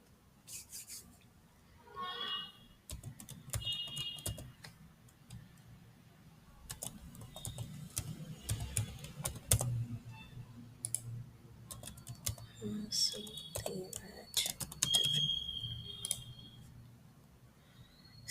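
Login details being typed on a computer keyboard, heard as scattered soft key clicks and taps with brief pauses over about eighteen seconds, faint and close with low room noise.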